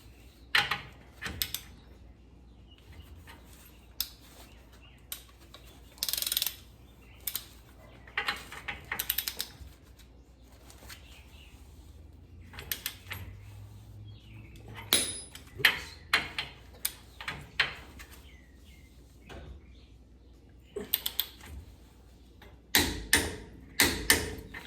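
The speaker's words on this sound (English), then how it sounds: "Now I tightened the top bolt, and I'm going to torque them down." Sharp metallic clicks and ratcheting bursts from a torque wrench tightening the steering knuckle ball joint bolts on a Jeep TJ, intermittent and close, with quiet gaps between strokes and a louder cluster of clicks near the end.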